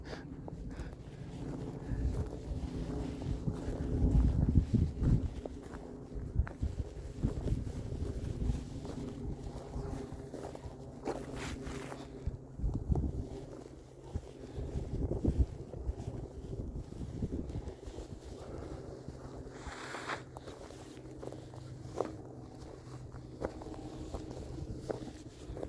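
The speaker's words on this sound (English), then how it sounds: "A little windy out here, huh?" Gusty wind buffets the microphone outdoors at Willow Park Dog Park, a steady low rumble with stronger surges near the start and around the middle, and occasional footsteps and movement close by.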